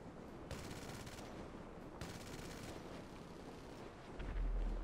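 Machine gun fire in GTA Online during the Import Export missions: two sustained rapid-fire bursts of about a second each, fairly quiet, then a low rumble near the end, with no talking.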